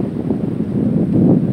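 Strong wind buffeting the microphone outdoors on a trip to the Cabusao wetlands in Bicol, a steady low roar that swells louder toward the end, with no voices.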